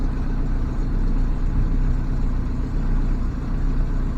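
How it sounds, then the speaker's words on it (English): A Yamaha 70 HP outboard motor on a MacGregor 26X idles steadily nearby at 950 RPM, a constant low rumbling chug with no changes in speed and no voices. "it's idling right now at 950 RPM"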